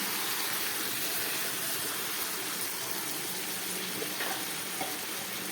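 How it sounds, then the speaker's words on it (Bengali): Pui shak (Malabar spinach) greens fry in a pan with a little water, giving a steady, loud, even sizzle that runs unbroken throughout with no talking. "এখন এটা খানিক্ষণ কষাতে হবে আমি একটু সামান্য জল দিয়ে দিচ্ছি"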